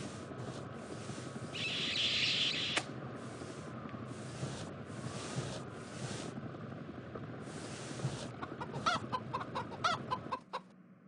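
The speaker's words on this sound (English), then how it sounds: "Why is there a chicken here?" A chicken clucks repeatedly in a comedy spy scene, with a brief higher burst early on and a run of sharp clucks near the end, close and clear over a steady background.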